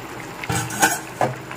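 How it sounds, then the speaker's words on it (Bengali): A lid comes off a pot of simmering raw mango and mustard prawn curry in a few brief metallic clinks and scrapes, set against a faint background bubble. "এখন ঢাকনাটা খুলে দেখে নিচ্ছি"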